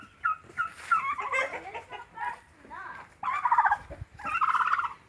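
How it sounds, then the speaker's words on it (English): Turkeys gobble repeatedly at close range, bursts of rattling calls in quick succession, with a flock's softer clucks and chatter between them. "Right here is our turkeys."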